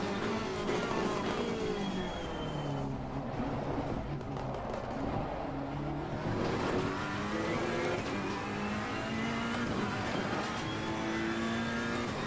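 Race car engines roar in the Assetto Corsa Competizione racing game during a British GT race. Several cars rev loudly together, their pitch climbing and dropping through gear changes with no break, while cars jostle close to overtake.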